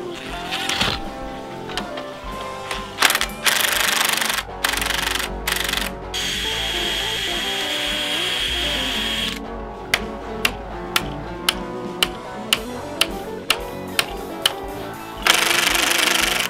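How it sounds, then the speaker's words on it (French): A power drill bores holes into raw steel for a light caravan lean-to, heard close and loud in long grinding runs, then a series of short, evenly spaced bursts, with brief pauses between. "ensuite faut percer les trous d'équerre"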